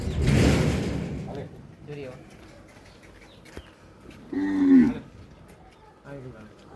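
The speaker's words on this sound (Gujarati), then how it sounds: "અત્યારે સાત ગાયો છે અને ચાર નાના પારું છે" A cow lets out a loud, drawn-out moo nearby on a Gir cattle farm, with a shorter lowing call before it and some faint talking around.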